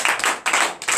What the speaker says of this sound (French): Donnez de vive acclamation à notre Seigneur